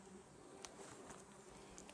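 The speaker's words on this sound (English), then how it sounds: "I don't know, guys, if you can hear all the buzzing around me." Insects buzz faintly and steadily around a forest clearing in Russia, a thin continuous drone with a few brief closer passes, no voices.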